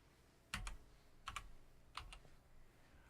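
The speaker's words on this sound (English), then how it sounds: "No, I typed it too fast." Three quick pairs of keystrokes on a computer keyboard, close and quiet, spaced under a second apart with no talking.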